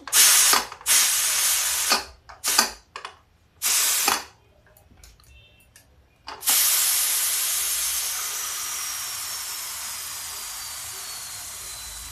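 Short bursts of hissing steam from a pressure cooker cooking a pea and cluster bean curry cut in and out, then a loud continuous steam hiss runs steadily to the end, close up.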